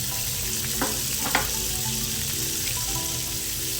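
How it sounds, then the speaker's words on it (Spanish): A good spoonful of butter melting in a frying pan over medium heat, used just before for salmon, gives a steady, fairly loud hiss and crackle throughout with a few brief clinks. "en la misma sartén agregamos una buena cucharada de mantequilla."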